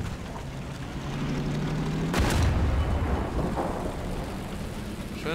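A single heavy tank cannon shot in War Thunder strikes the turret of a Tiger tank from behind, a sudden loud boom with a rumbling tail over a steady low battle drone.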